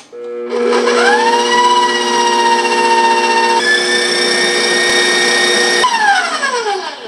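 An electric hand mixer whirs steadily while beating cake batter with flour and lemon zest for Creole cremasse cake, a loud, close motor whine that shifts pitch midway, then winds down at the end.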